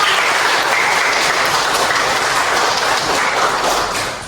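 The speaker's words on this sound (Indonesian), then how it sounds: "Tepuk tangan." A classroom of students claps together, a dense, steady burst of applause that fades slightly at the end.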